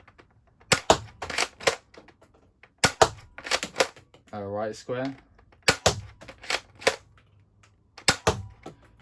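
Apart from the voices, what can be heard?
Nerf Elite 2.0 Eaglepoint RD-8 blaster firing darts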